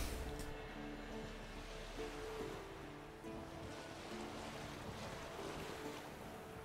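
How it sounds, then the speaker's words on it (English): In The Witcher 3, a boat's sail flutters at sea over steady wind, water wash and creaking, a continuous mid-level blend of flapping canvas and ocean noise. "Sail's fluttering."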